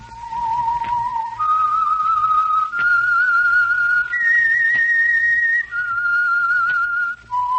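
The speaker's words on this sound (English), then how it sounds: "whistle is your signal for the Signal Oil program, The Whistler." A lone whistler performs the eerie signature theme of The Whistler, an old-time radio mystery program sponsored by Signal Oil, a clear sustained melody gliding between held pitches, loud and close with no voices.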